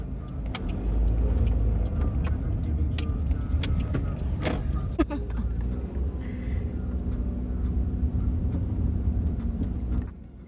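Interior of a car driving on a road, a continuous low engine and tyre rumble with occasional clicks and light rattles, steady throughout before easing off at the very end.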